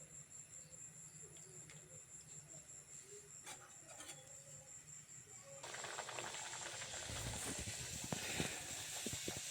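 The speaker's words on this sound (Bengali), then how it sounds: "পলি আজকে পরোটা ভাজতেছে" Paratha frying in hot oil: a quiet stretch with faint tones gives way midway to a loud, dense sizzle and crackle of dough hitting the oil, continuing strongly to the end.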